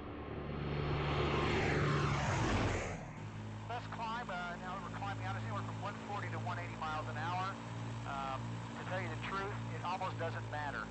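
A loud propeller airplane engine roars up close during a climb, then settles into a steady droning hum as voices talk over it.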